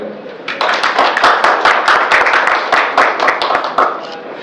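Audience clapping and applause at a Kannada movie success meet celebrating the film's 25th day, a dense, steady burst of many hands lasting several seconds after a brief quieter start.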